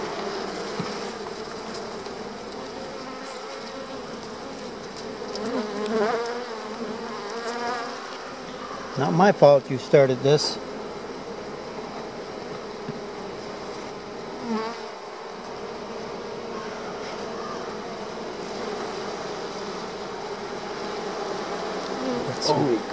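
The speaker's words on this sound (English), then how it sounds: "We're about to anger the bees." Bees buzz angrily around an opened top-loading beehive, a dense continuous drone close to the microphone. Brief spoken remarks and some handling noises cut in partway through.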